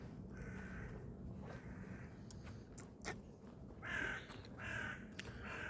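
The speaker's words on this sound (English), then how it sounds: "The crow is croaking." A crow caws several times at a distance, harsh calls spaced irregularly over a faint steady outdoor hum.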